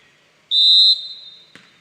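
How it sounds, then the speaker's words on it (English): A referee's whistle at a high school varsity boys basketball game sounds one loud, sharp blast of about half a second, then fades. A single dull thud follows, like a ball bounce. "And there was the whistle, and here we go."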